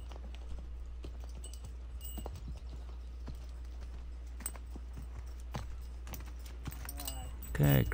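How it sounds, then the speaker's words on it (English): A horse being lunged in hand moves at a steady walk, its hooves clip-clopping in an even rhythm at moderate distance, with faint clattering and a brief louder bump near the end. "show him lunging in hand by Kristen here"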